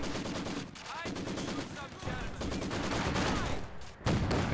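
Machine guns rattle in a Company of Heroes 2 battle, with dense, rapid bursts of gunfire over a constant din of other combat noise.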